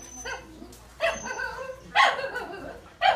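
Australian shepherd puppies let out short, high yipping barks close by, roughly one burst every second across four bursts, the third loudest, with a faint whimpering tone between them.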